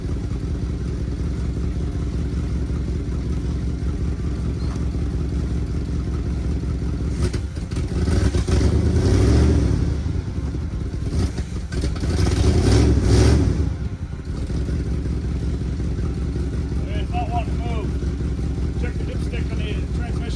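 An old 1972 truck with a 402 big-block Chevy engine idles roughly, then revs up twice in loud surges as the truck strains to move in reverse, settling back to a steady idle.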